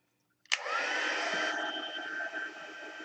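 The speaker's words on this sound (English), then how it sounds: "I didn't have my heat gun warmed up, so it takes a second to warm it up and get it started." Heat gun for heat embossing starts after a brief silence and settles into a steady, loud airy whoosh with a motor whine, blowing continuously to the end with no voices.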